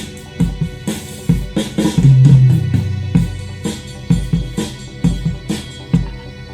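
A dry, unprocessed drum kit recording plays a steady beat of punchy kick and snare hits, close and loud, with a brief sustained low tone midway.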